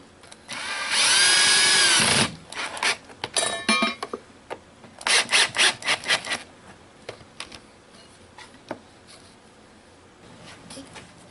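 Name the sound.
drill driving a screw through a template into a log slab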